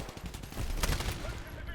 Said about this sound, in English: what you heard there was a smart pistol